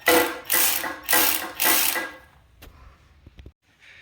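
A socket wrench ratchets in four rapid broadband bursts while working loose an engine part, then a few faint clicks and taps follow in a quiet workshop.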